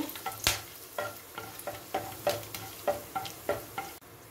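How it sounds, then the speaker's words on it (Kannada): Whole star anise, three pieces of cinnamon and seven or eight cloves frying in a pan, with a regular series of sharp scraping stir strokes over a low sizzle and no voices. "ಚಕ್ಕೆ ಒಂದು ಮೂರು ತುಂಡು ಮತ್ತು ಏಳೆಂಟು ಲವಂಗ ಇದೆಲ್ಲ ಹಾಕಿ ಒಂದು ನಿಮಿಷ ಹುರಿದ್ರೆ ಸಾಕು"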